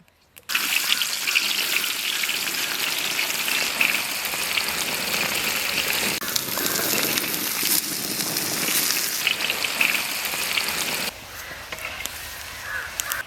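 Onions being tempered in clean coconut oil for Chettinad mutton chukka give a steady, dense crackling sizzle that runs loud and unbroken, then drops to a softer hiss near the end.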